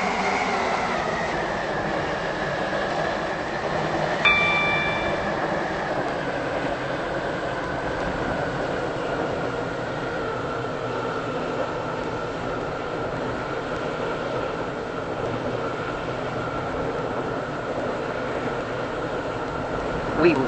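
Inside the carriage of an airport terminal shuttle train, a steady rumble with a constant low drone and a faint brief squeal partway through.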